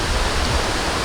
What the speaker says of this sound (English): We almost reached the waterfall.